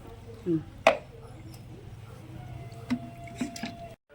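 Korameenu fish is washed by hand in a vessel of water with salt, making close squishy sloshes and drips, one sharper splash near the start, and scattered wet handling sounds.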